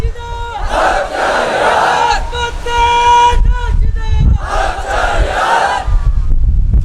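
A crowd at a religious lecture on the martyrdom of Husain chants slogans in loud bursts of massed voices, with pauses between the shouted waves.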